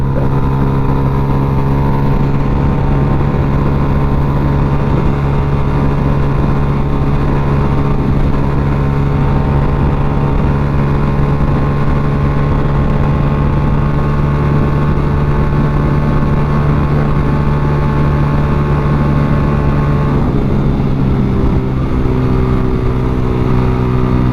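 A Honda Wave 110i motorcycle with a 53 mm bore engine screams at high speed, its tone holding steady and loud for the whole stretch before a slight shift and drop in pitch near the end, with wind rush throughout.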